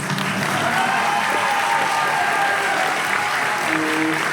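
Sustained crowd applause at a Walibi Belgium theme park pass event presentation, steady and dense throughout with scattered cheers and some talk mixed in.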